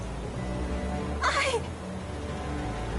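A single plaintive cat meow rises and falls once, clear and mid-distance, over a low humming background score in the visual-novel game 13 Sentinels: Aegis Rim.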